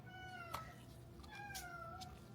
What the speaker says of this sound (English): That's my brother-in-law's cat.